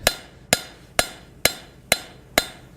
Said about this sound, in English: if you drive the rivet up tight cold first